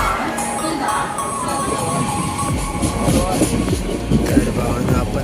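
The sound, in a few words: Diva–Sawantwadi passenger train at Panvel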